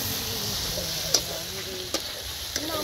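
Chicken with masala sizzles steadily in a hot pan on a home stove, a continuous frying hiss broken by three sharp scrapes of stirring, close and moderately quiet.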